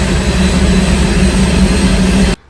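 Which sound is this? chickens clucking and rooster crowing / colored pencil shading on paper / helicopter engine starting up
helicopter engine starting up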